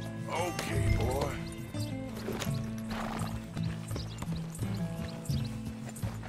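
Horse hooves clip-clop on the ground in Red Dead Redemption 2 as the rider spurs the horse along, with whinnies, game music and a voice talking over the steady rhythmic footfalls.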